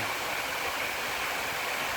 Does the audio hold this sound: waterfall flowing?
yes